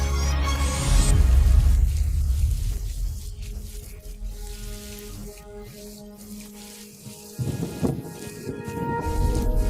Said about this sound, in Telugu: ఉదయమైనా వర్షం ఇంకా ఆగదు.